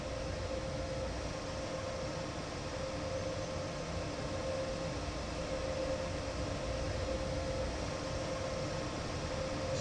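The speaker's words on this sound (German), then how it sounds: "wir lösen die Bremsen und schalten langsam auf" Steady low rumble of a train in Train Sim World 4 as brakes release and it pulls slowly out of the station, a constant droning hum with a faint tonal whine and no distinct hiss or voices.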